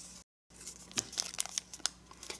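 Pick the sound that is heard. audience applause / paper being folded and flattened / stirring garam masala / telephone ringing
paper being folded and flattened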